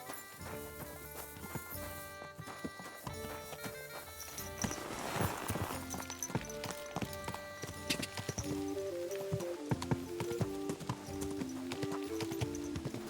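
Horse hooves clip-clopping in a steady walking rhythm, mixed under continuous music that stays loud throughout.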